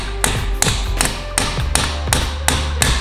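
A hammer taps suspension parts, ball joint and lower links, back into place on a Cadillac ATS: about eight sharp, evenly spaced metallic taps, close and clear, with no talking.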